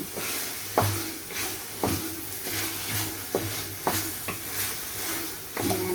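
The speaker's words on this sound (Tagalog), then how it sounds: "Isunod naman natin ang carrots at saka celery na magkasabay" Carrots and celery sauté in a pan with a steady sizzle, while a spoon stirs and scrapes against the metal in sharp, regular knocks about once a second.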